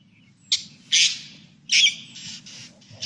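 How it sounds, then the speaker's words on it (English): Green parrot screeching outdoors in a nature setting, giving several loud, harsh calls in bursts of varying length, with a low steady background rumble beneath. "that is the screech of a green parrot"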